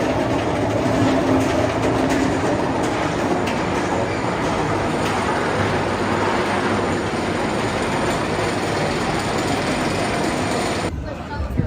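Nitro roller coaster train at Great Adventure roaring along its track in a steady loud rumble with rattling clatter, continuous throughout with wind noise, cutting off sharply near the end.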